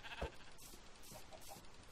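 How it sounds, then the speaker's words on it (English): A baby sheep bleats in the Minecraft video game, a short clear bleat followed by a few fainter repeated cries over steady game background noise. "Come kill this baby sheep."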